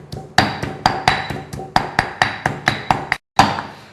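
A pestle pounds salt and coriander roots into a curry paste in a mortar. About a dozen sharp, evenly spaced thuds come close and loud, with one brief pause before the last strike.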